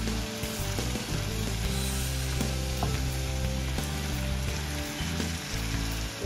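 Hot oil sizzling in a pan before eggs go in for a home-style dish, a dense steady crackle with stirring clatter, close and alone.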